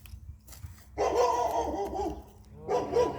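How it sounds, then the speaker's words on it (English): A neighbour's dog barks at a distance outdoors, a short burst of yapping, a pause, then another round, faint and somewhat muffled over quiet ambient background. "Neighbor's dog's gonna get Katie."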